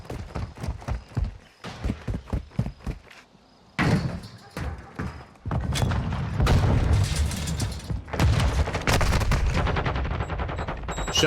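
Gunfire in Call of Duty: Modern Warfare II during a LAN match: sharp separate shots at first, then a pause, then a dense stretch of rapid automatic fire, loud and close.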